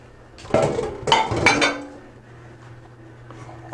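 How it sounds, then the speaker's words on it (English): Metal pot of goat meat being set on a gas stove to boil, giving a few clanking, clinking knocks of cookware close by against a low steady hum. "put the goat meat to start boiling."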